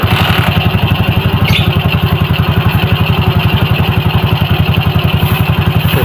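A motorcycle engine idles steadily with a fast, even putter and a dry metallic clatter from a worn clutch bearing, loud and close throughout with no one speaking.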